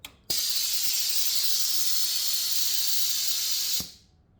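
A workshop air compressor's automatic drain valve releases a steady, loud hiss of air that starts abruptly, holds for about three and a half seconds, then cuts off sharply.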